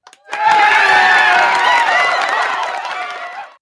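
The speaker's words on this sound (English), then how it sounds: "Crowd goes wild." Crowd cheering effect, a loud burst of many voices whooping and shouting that swells quickly, holds for about three seconds, then fades away.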